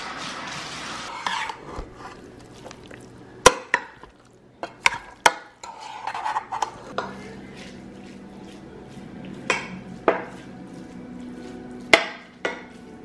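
Big spoon scraping and clanking against a cooking pot while food is mixed in a home kitchen, irregular sharp knocks and scrapes spaced a second or two apart with softer stirring between.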